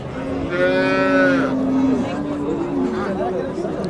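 A cow moos loudly nearby, one long drawn-out call, over a busy background of people chattering in a crowd at a livestock market in Chiroqchi, Qashqadaryo, Uzbekistan.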